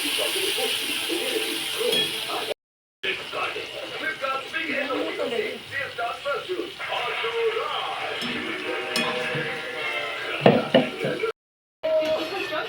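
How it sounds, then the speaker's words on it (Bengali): Mustard, chilli and poppy seeds frying and being stirred in a pan for a potol-sorshe (pointed gourd in mustard) dish: continuous close sizzle and hiss with scraping and clinks of the spatula, under steady talk. "এই যে ভাজা হচ্ছে, দাঁড়া নেড়ে দিই একটু"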